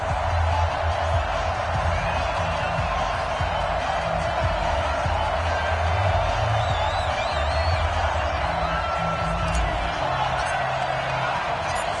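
Crowd cheering in a stadium during an American football video game, Minnesota Vikings versus Green Bay Packers, a constant loud roar of many voices with faint whistles and horn-like tones drifting over it, steady throughout.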